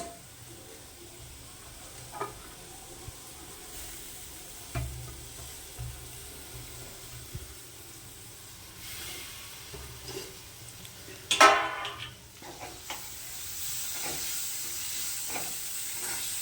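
Coriander added to bottle gourd frying in a pan and stirred: a steady quiet sizzle with scattered scrapes and taps of a spatula, and one sharper clatter partway through.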